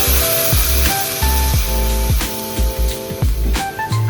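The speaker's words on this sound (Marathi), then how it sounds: "त्यानंतर आपण त्या भाजलेल्या शेवयांमध्ये गरम केलेले दूध हळूहळू" Hot milk poured slowly into roasted vermicelli in a pan, a loud close steady hiss and sizzle with rhythmic bubbling pulses and clinks throughout.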